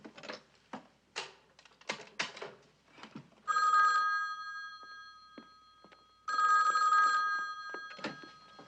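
Two bursts of an electronic telephone ring, each about a second long, with a pause between, amid faint clicks and shuffling noises.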